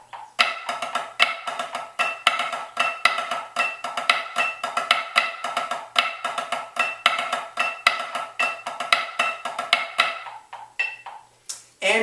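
Sticks play the twos section of a flam-drag grid on a practice pad: crisp, rapid taps grouped in quick flams and drags, close and steady for about ten seconds before stopping.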